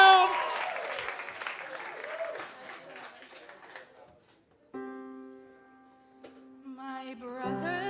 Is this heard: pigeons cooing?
no